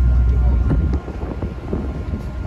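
Cold wind gusts across a microphone beside a Chicago river where tour boats run, giving a loud, buffeting rumble that rises and falls in short bursts.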